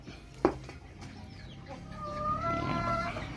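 Native Thai chickens clucking nearby, with a sharp knock early on and a longer drawn-out call rising toward the end over low background noise.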